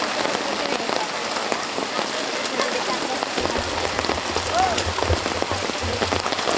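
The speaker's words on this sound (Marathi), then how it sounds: "पाऊस चालू झालेला आहे" Steady rain pours down on an outdoor Vat Purnima gathering, a dense hiss of drops striking surfaces that fills the whole scene without letup, with a low rumble joining partway through.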